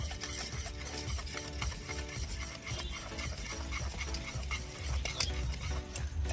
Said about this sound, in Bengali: এই 2 কাপ ময়দা দিয়েই আমরা আবার ভালো করে নাড়তে থাকবো।